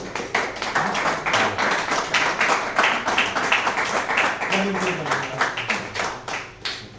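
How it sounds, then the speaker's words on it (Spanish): A seated audience at a Spanish book presentation claps steadily, a dense rhythmic patter of many hands that swells and slowly fades near the end. "Un aplauso para Jimena"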